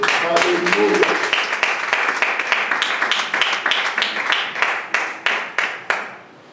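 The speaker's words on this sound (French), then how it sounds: "Est-ce qu'on peut encore applaudir la parole de Dieu?" A church congregation breaks into applause after a sermon, a brief word opening it before many hands clap together in a steady rhythmic patter that thins out and stops.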